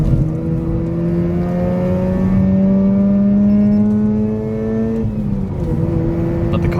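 A Mazda RX8 driving at night gives a steady, loud engine drone from inside the cabin, its pitch climbing smoothly as it accelerates, then dipping and settling near the end with no talking.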